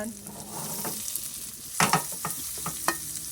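Morning glory stir-fried with curry paste sizzles steadily in a pan, with scraping spatula strokes and a few louder stirring clatters near the end.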